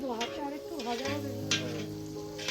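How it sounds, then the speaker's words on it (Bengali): Fried rice in a wok on an outdoor picnic stove sizzles softly while a utensil scrapes and stirs it in a few brief strokes, with overlapping voices and tonal background sound running over it. "এবার একটু নাড়িয়ে নিন আপনি"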